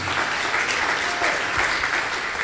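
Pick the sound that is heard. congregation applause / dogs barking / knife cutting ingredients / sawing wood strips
congregation applause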